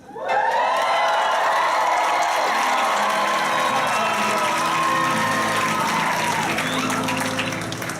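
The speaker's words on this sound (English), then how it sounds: "You're going to scream, you're going to stand up, you're going to cheer like this." A theater audience at a live Broadway-style musical show in Hamilton, Bermuda erupts in loud screaming, whooping and applause, a sustained roar that swells at once and stays strong for several seconds.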